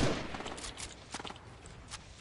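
Video game gunfire in a close firefight, a few quick scattered shots and short bursts at moderate level over a noisy background.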